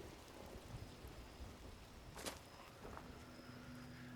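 Steady, soft rain hiss from Fallout 76 in the Savage Divide, faint and continuous, with a brief crisp patter near the middle and no talk.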